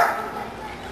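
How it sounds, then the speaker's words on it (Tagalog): A stray dog following people along a village street gives a short, sharp yip near the start, with a voice talking alongside it. "At ayan pa rin yung aso kanina pang sumusunod sa amin."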